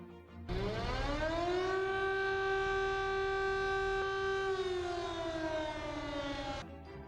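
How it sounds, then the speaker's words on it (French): A French civil defense siren, sounded on its monthly test, wails, rising quickly to a sustained loud tone, holding steady, then slowly sliding down before cutting off. "Ça peut être les sirènes qu'on entend en France tous les premiers mercredis de chaque mois"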